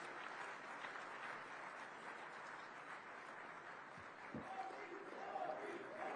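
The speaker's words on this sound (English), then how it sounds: "please give a huge round of applause to the man with the Midas touch" An audience at the News18 Rising Bharat Summit applauds Prime Minister Narendra Modi, a steady wash of distant clapping that holds evenly for several seconds and swells slightly near the end.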